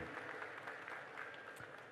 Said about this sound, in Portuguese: Uma salva de palmas ao hino nacional brasileiro.